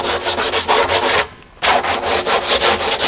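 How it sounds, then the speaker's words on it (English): Sandpaper is rubbed hard over plastic in quick back-and-forth strokes, a loud rhythmic rasping close up that stops for a brief pause and then starts again, with no talking. "Then you take some sandpaper"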